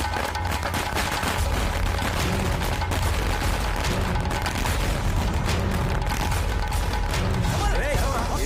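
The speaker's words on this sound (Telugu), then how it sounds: "వాళ్ళే టపాసులు పేలుస్తారా? ఏ మనం టపాసులు పేల్చలేమా?" Firecrackers burst in a dense, continuous barrage during a Telugu action thriller movie scene, with loud overlapping booms and crackling pops filling the whole stretch without a break.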